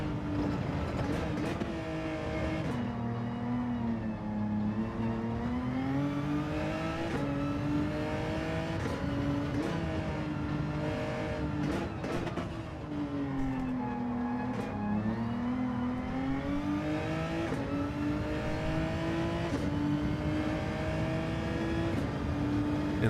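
Race car engine in a racing game holding fifth gear at high revs, a loud steady drone whose pitch rises and dips with throttle, continuous and alone throughout.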